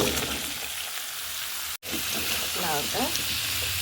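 A spice mixture sizzles steadily in a pan as chopped bottle gourd is sautéed in it, broken by a brief dropout midway, with a faint voice briefly audible near the end.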